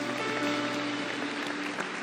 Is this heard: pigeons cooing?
no